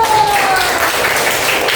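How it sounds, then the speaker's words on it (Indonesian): Hands clap together in a classroom, a steady burst of applause that fills the short moment without pause, with a faint voice underneath. "Tepuk tangan dulu."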